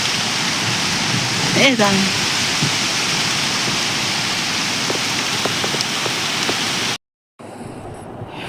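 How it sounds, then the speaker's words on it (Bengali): Heavy rain falls in a loud, steady wash of noise that fills the whole stretch. A voice speaks briefly early on, and the sound cuts out for a moment near the end. "কত বৃষ্টি আসছে দেখ"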